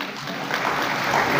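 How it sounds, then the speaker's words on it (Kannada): An audience applauds at a state journalists' conference in Nelamangala, Bengaluru, with a brief burst of clapping from many hands that swells slightly toward the end. "ಇನ್ನೊಮ್ಮೆ ಜೋರಾದ ಚಪ್ಪಾಳೆ ಅವರಿಬ್ಬರಿಗೆ ಬರಲಿ"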